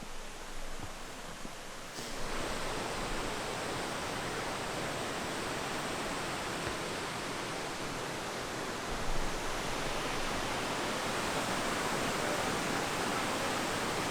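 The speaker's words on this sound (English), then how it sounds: "Waterfall!" A waterfall in a rainy northern forest pours as a broad, constant rushing roar that starts abruptly after a quieter moment and then holds steady and loud with no talk over it.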